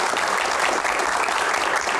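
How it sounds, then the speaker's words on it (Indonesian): An audience at a Q&A event applauds Pak Arsjad Rasjid with dense, steady clapping that stays loud and continuous throughout, with no voices breaking through. "tepuk tangan untuk Pak Arsyad"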